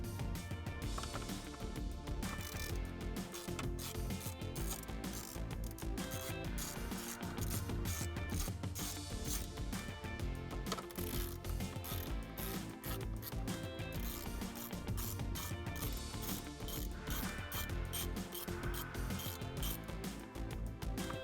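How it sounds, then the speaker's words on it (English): A hand ratchet fitted with a 7mm socket loosens the bolts holding a Mustang radio in the dash, giving a rapid, continuous clicking that comes close and loud with only brief pauses. "now we're going to remove the 2 7mm bolts at the top of the radio with our 7mm socket."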